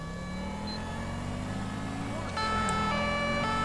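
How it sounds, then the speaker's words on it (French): A French police car siren in a modded GTA 5 game, a Renault Scenic 3 in town, wailing and rising steadily, then switching to a different tone partway through, heard under game ambience with a voice nearby. "Je vais mettre juste les sirènes."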